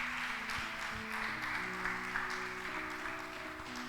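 A church congregation claps for the Lord during a Spanish-language service, steady broadband applause running the whole time with tonal music or organ notes sustained underneath.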